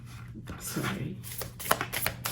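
Tarot cards from two decks being shuffled at close range, a soft riffling and sliding flutter with a few sharper card slaps, over a low steady hum.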